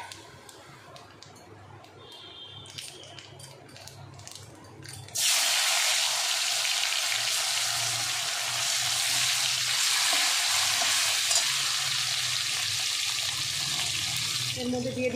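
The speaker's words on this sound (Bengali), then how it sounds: "এই তেলে আমি কালো জিরে দিয়ে মাছটা বসাবো।" Fish dropped into hot oil with black cumin seeds, a sudden loud sizzle bursting in and then holding steady and strong, after a quieter stretch of kitchen clatter.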